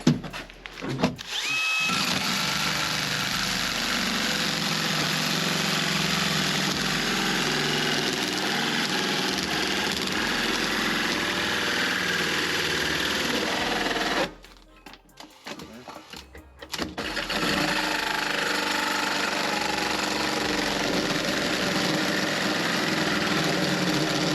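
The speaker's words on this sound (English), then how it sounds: "I'm gonna drill holes now and see how it works" Power drill boring holes into the frame rail of a Foxbody car during a rollcage install, a loud continuous close whine that runs almost throughout, broken by a brief pause partway and then resuming.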